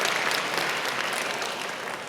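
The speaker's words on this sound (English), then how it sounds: "So let's give them a round of applause." Audience applause at a university AI hackathon awards ceremony, steady dense clapping from a crowd filling the whole stretch, fairly loud and even with no talk over it.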